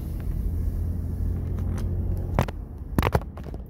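Car interior while driving: a steady low engine and road rumble fills the whole stretch, with a few sharp crackling knocks near the middle and end.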